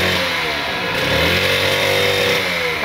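A motorcycle engine revs hard and steadily as the throttle opens, its loud, continuous roar rising slightly in pitch.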